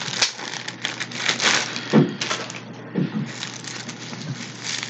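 Plastic packaging around a Fossil wallet crinkles and rustles close by in uneven bursts of crackling handling noise.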